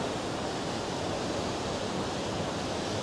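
Ocean waves washing in at Dewata Beach in Galle, Sri Lanka, a steady broadband roar of surf with wind noise and no distinct breaks, fairly loud and continuous throughout.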